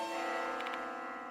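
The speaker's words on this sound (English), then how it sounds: "Sound of a bell." Bell in the video game Death Mark 2, a soft, sustained ringing tone with a quick cluster of brighter strikes partway through, faint and alone.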